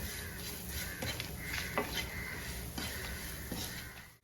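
Homemade ground masala roasting in a pan while being stirred, with soft scraping strokes and a low sizzle repeating every second or so, close and steady with no voices.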